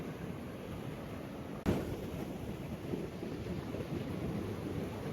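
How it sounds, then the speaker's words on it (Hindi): Sea waves on the Welsh coast give a steady, loud broadband roar of surf and wind, with a sudden burst of extra noise partway through, with no voices. "समंदर का शोर भी काफ़ी है।"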